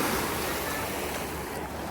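Mediterranean Sea waves washing onto Mackenzie beach in Larnaca, Cyprus, a steady broadband surf wash with a faint breezy hiss, continuous and fairly close, with no talk.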